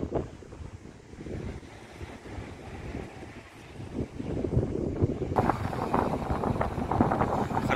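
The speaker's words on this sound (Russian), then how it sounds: "Хорошо задувает ветер." Strong wind blowing by the sea on the Crimean coast near Sevastopol, gusty buffeting rumble against the microphone that grows louder and rougher in the second half, with no talking.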